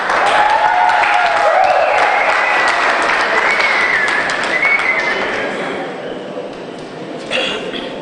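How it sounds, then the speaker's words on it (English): Audience at a Social Good Summit applauds speakers with loud, dense clapping that runs steadily for several seconds, then gradually thins and fades toward the end. "Another round of applause for Clement and Lulu"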